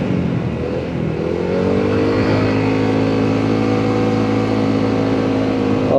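A remapped Honda ADV 160 scooter engine pulls hard uphill in Batangas, its steady drone rising in pitch as it accelerates, loud and close with a constant note throughout and no talking.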